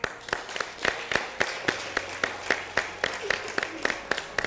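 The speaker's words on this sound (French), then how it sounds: "On t'applaudit." A small group at a cooking competition claps in an even, rhythmic beat, about four claps per second, sharp and close, sustained throughout.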